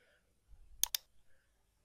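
Two sharp computer mouse clicks in quick succession, close and fairly quiet, over a faint low background hum.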